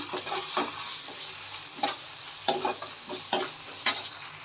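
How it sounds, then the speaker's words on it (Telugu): Onions fry in a pan while ginger paste is stirred in, giving a continuous sizzle with repeated scraping strokes of a spoon at an uneven rhythm. "అల్లం పేస్ట్ వేసుకొని కలుపుకోవాలి"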